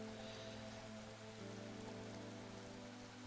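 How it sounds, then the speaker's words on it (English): Rain falls in the video game Astroneer, a faint, steady hiss of drops that runs throughout over a low humming drone. "So here we should see normal rain coming down"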